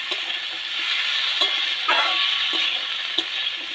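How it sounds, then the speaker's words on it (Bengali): Figs and potatoes fry in a pan with salt, no onion or garlic, giving a steady close sizzle while a spoon stirs them with a few soft scraping knocks. "আবার একটু ভালো করে নাড়িয়ে নেব।"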